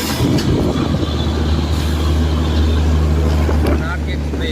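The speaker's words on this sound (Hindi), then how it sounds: "ये ट्रेन भी आई थिंक वारंगल के लिए जाएगी।" Karnataka Express, the Mumbai–Bhubaneswar train via Hyderabad, rumbles past with a steady low roar and rattle of wagons, loud and close throughout.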